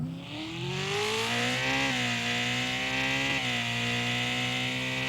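Car engine revving hard and climbing through the gears during a speed record run in Car For Sale Simulator, a loud continuous rising roar with gear shifts around two and three and a half seconds, no talk.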